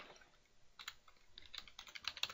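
Rapid typing on a computer keyboard while entering text into a Notepad file, a quick irregular patter of key clicks that grows louder and denser toward the end, with no talking.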